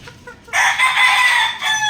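Backyard chickens with chicks: a loud, near rooster-like crow or long squawk rises abruptly and holds for over a second, with faint clucks just before it.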